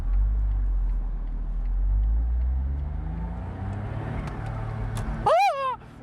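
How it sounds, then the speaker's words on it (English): A Smart Roadster Coupe engine rumbles steadily at idle and low revs, then near the end a short, bright turbo whistle rises and falls over the engine. "Oh, it made a turbo noise."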